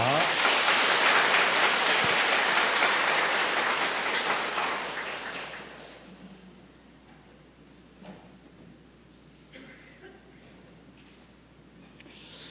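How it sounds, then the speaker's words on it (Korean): A church congregation at a Sunday service claps loudly and densely for about five seconds, then the applause fades into a quiet room with scattered small bumps and rustles. "여러분 큰 박수로 격려해 주시기를 바랍니다"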